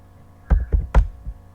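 A few separate keystrokes on a computer keyboard as an nc command is typed and entered, sharp close taps with no talk.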